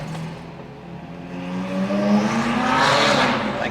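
A V8 supercar engine revs inside a tunnel, a loud close growl that climbs steadily in pitch and swells toward the end with a booming, echoing body.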